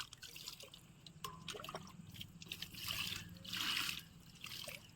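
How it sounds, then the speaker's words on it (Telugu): Water poured from a watering can onto freshly potted plants in a terrace garden trickles and splashes softly in uneven bursts, faint and close, with light handling noises around it. "వాటర్ పోసేద్దాం ఫస్ట్ టైం నీళ్ళు పోసేటప్పుడు కొంచెం ఎక్కువగానే పోసుకోవాలి"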